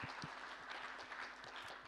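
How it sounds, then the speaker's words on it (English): A panel audience at a UN Foundation event on climate justice and education claps for a speaker, producing a soft, steady patter of many hands with a few sharper individual claps. "Let's clap for Enrique."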